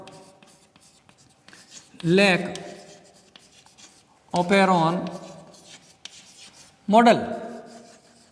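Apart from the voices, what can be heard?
writing the lecture title on a board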